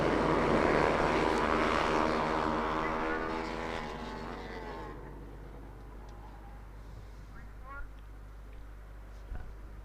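TVS Apache RR310 race motorcycles roar past on a circuit during a racing event, loud at first and then fading into the distance, with a few faint engine surges later.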